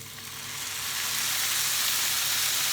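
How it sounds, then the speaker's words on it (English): Two tablespoons of balsamic vinegar hit a pan of caramelised onions, and the sizzle rises within a second into a loud, steady hiss of frying that continues to the end. "I'm now going to add 2 tablespoons of balsamic vinegar"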